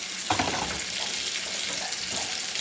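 Mushrooms frying in butter in a pan for a French chicken casserole, giving a steady broadband sizzle with a brief louder burst as they hit the pan, continuous and close with no talking.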